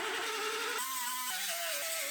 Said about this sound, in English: I'll drill our spot welds out of the driver's side.